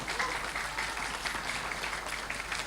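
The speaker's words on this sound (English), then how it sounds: "please give big round of applause for those speakers" Dense, continuous applause from a conference plenary session audience thanking the speakers, an even wash of many hands clapping at steady loudness throughout, with some faint talk mixed in.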